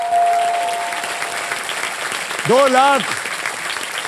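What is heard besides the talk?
audience applause, wife clapping loudly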